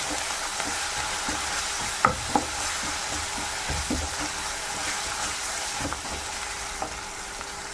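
Ginger-garlic paste sautéing in a pan for a Kerala-style beef kurma, giving a soft, even sizzle with occasional light taps and scrapes of a spoon stirring it, close by and steady.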